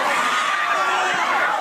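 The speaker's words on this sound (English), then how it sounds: "the crowds." Crowd of shoppers at a store doorbuster sale: a dense, steady roar of many voices with shouting and excited cries, loud and unbroken.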